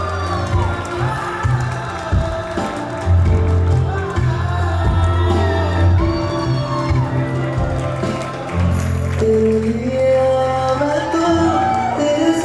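Wedding guests at a valima reception cheer, whoop and clap loudly as a crowd, a dense swell of shouts and applause under booming music that rises sharply partway through.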